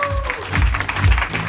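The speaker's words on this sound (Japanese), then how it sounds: "皆さん拍手。" A live audience at a freestyle battle event in Kobe bursts into short, dense applause that lasts about a second and a half, close and fairly loud.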